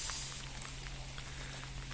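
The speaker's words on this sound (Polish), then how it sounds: "Deszcz, ale deszcz utrudnił mi tą sprawę. Zobaczcie, jak leje w ogóle." Heavy rain pouring down outdoors, a dense, even hiss of falling water with faint scattered drop ticks, steady and fairly quiet throughout.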